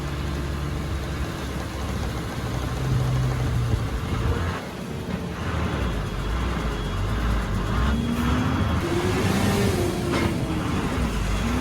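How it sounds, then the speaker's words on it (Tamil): A heavy truck loaded with cement labours along a snowy mountain road near Tawang, its low engine drone steady and fairly close throughout, with gear-change hum shifting in pitch toward the end. "வண்டி செம்ம லோடுங்க சிமெண்ட் ஏத்தி போகுது"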